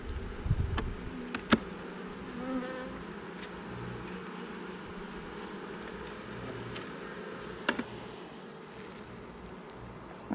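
Honey bees hum steadily inside a hive opened for its first spring inspection, a light colony suspected of being queenless; the low, continuous buzz is close and even, broken by a few sharp clicks and knocks.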